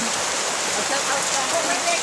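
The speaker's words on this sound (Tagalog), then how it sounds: "Tapos magbaba pa siguro yan kasi kalalakas ng ulan." Heavy rain pouring down in Antipolo, a dense steady hiss of drops on surfaces, close and constant with no talk.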